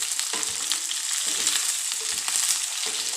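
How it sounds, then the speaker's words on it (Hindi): Sliced onions frying in oil until golden for pyaz ki sabzi, a dense crackling sizzle that holds steady throughout, with a few soft stirring knocks, close by and without speech. "प्याज को थोड़ा सा गोल्डन करना है।"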